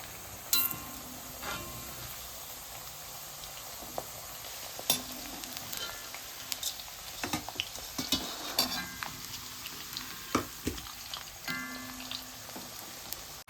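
Banana chips fry in hot oil with a quiet, bubbling sizzle while a metal utensil stirs them, producing frequent clinks and scrapes against the pan throughout.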